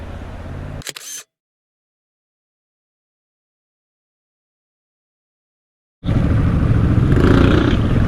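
A single-lens reflex camera takes a picture outdoors on an off-road motorcycle ride day, giving a brief mechanical shutter click near the start before the sound drops out, followed by loud engine rumble.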